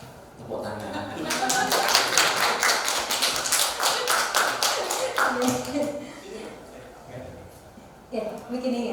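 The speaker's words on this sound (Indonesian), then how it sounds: "Tepuk tangan." An indoor audience at a teacher's presentation claps in a dense burst of applause that builds, holds for several seconds and then fades.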